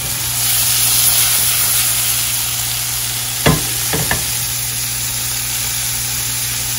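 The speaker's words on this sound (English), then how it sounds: "now they're gonna go get sauteed with butter and some sugar" Carrots, boiled first, sautéing in a pan with butter and sugar give a steady close sizzle, with a few brief stirring scrapes partway through.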